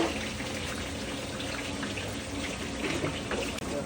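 Water pours steadily into a cooking pot for dal, a continuous splashing rush that runs for a few seconds and then stops abruptly.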